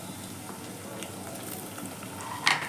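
Capsicum frying in overheated oil with whole spices, a steady soft sizzle throughout, fairly quiet, with a brief louder crackle near the end.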